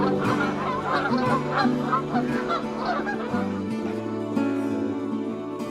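Geese honk in a busy chorus at Reifel Bird Sanctuary on Westham Island during feeding, with many overlapping calls, some near and loud, as a low murmur continues underneath.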